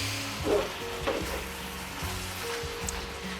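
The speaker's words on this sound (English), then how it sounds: "you just wanna break up the ground beef a little bit, and you're gonna let it brown really well" Ground beef broken up and browning in a hot pan for a Korean beef rice bowl, a continuous close sizzle with a few soft scraping stirs and no voices.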